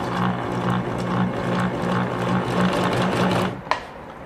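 A Fashion Touch 1036 sewing machine running a straight stitch forward and then in reverse, a steady fast mechanical whir with rhythmic needle clatter, close and loud, ending in a brief click as it stops.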